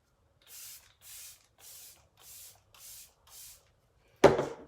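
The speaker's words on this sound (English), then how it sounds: "Okay, Let It Set Refreshing Spray." Let It Set Refreshing Spray setting spray pumped in six short, even hissing bursts at a steady rhythm, close and fairly soft, followed by a sharper knock as the bottle is set down.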